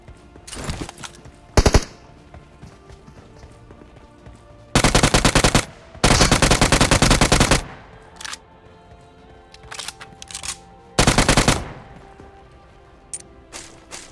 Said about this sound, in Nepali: अगाडि पनि फायरिङ भइराछ